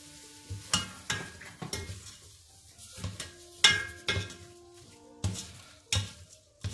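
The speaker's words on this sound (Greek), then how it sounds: "Ανακατεύουμε καλά." Chopped celery with salt and pepper stirred in a pan, giving a series of sharp scraping and clinking utensil strikes against the pan at an irregular pace, close and fairly quiet, with no talk.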